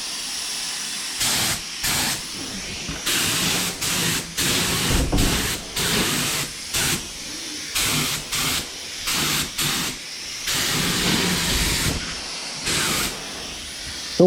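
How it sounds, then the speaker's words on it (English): Spray gun laying epoxy primer onto a vintage Oldsmobile body: repeated bursts of loud compressed-air hiss, each lasting about a second, separated by short pauses in a steady on-off rhythm, close up with no talk. "So we'll put a mist coat on first, and then we'll come back behind it and put a heavier coat on."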